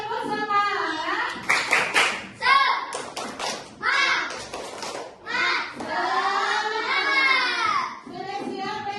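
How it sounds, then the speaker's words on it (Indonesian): An elementary school class does a rhythmic spirit clap: bursts of patterned clapping from many children, mixed with a teacher and kids chanting in unison, loud and close in a classroom. "Oke, tepuk semangat semuanya."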